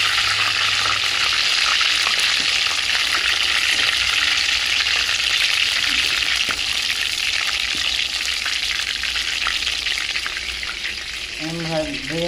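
Chicken pieces frying in mustard oil for garlic chicken, a loud continuous sizzle with crackling bursts close up, steady throughout and easing slightly near the end, where a brief tonal rising sound appears.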